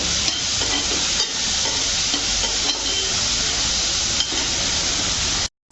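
Ginger garlic paste sizzles steadily in a pan of fish curry, a loud continuous frying hiss with occasional stirring clinks, no voices, stopping abruptly at the end.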